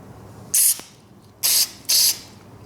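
Three sharp hissing bursts of aerosol carb cleaner sprayed into a Mikuni carburetor from a Yamaha Banshee, each under a second, close up against a faint background hum.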